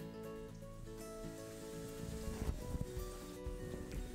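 Steady rain falls outside at an Ayurvedic centre where vegetable dum biryani is being cooked, a soft continuous patter with a faint sizzle and hum underneath.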